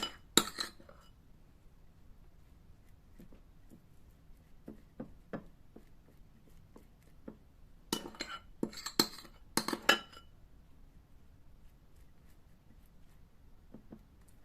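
A spoon spreads butter across slices of bread, producing scattered faint scrapes and light metallic clinks against a plate, with a cluster of sharper taps partway through in an otherwise quiet kitchen.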